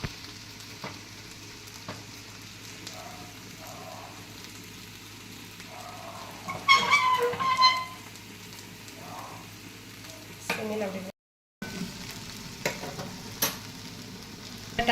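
Sardines frying in a pan with green peppercorns give a low, steady sizzle with brief louder bursts of crackling spatter near the middle, close and alone, with a short dropout near the end.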